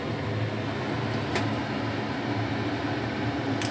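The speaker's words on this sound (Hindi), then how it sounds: "किचन का ये सिमनी है हिनवेल का, इसको ऑन कर दिया है" A Hindware kitchen chimney hood runs over a stove with oil heating, producing a steady broadband fan whoosh that stays even throughout, with two faint brief clicks and no voices.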